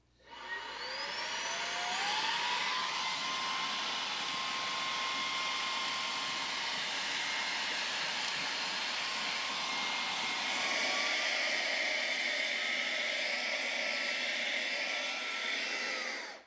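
Fanttik V10 Apex cordless car vacuum running on max power while sucking up dirt and sand, a loud steady whine that ramps up at the start, then holds with shifting pitch as debris passes, no talking.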